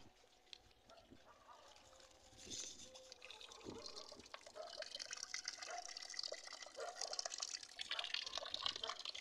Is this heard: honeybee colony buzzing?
no